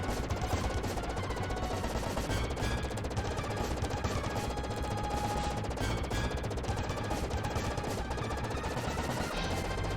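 Rapid, continuous regular-gun shooting in Contra III: The Alien Wars on SNES, played on hard mode, rattles on without pause as dense chiptune-style gunfire over busy game sound, with no talking.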